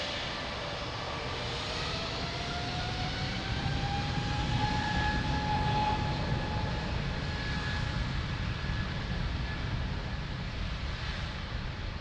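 Airplane taking off from runway 02 at Lisbon Airport, a broad steady engine roar with a rising whine building through the middle and holding strong, heard from a distance without any voices.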